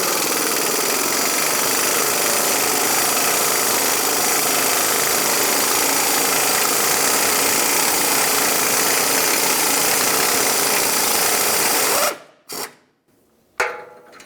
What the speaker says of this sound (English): Now I'll use my 12mm socket and remove each of these mounting bolts.